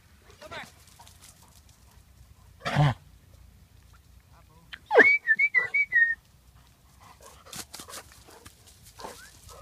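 A person in a garden with a Weimaraner gives a short, clear whistle in a series of rapid rising and falling chirps, surrounded by brief, quieter sounds and a dog's noises.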